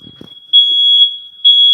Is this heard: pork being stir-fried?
no